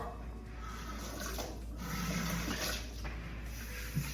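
Steady hiss of running water from a tap flowing into a bowl of sourdough bread dough, continuous and fairly close with no voices.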